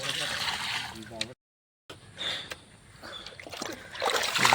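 Water is scooped out of a small boat on the backwaters of Kuttanad, Alappuzha, Kerala, during a fishing outing: close splashes and sloshing under outdoor chatter, with a brief break in the middle.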